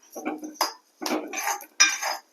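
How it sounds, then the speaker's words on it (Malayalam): Toor dal and chana dal dry-roasting in a pan, heard as several short bursts of dry rattling and scraping as the lentils are stirred and tossed against the metal, close and fairly loud, with brief pauses between strokes. "തോരൻപരിപ്പും കടലപ്പരിപ്പും ഇട്ട് വറുക്കുക."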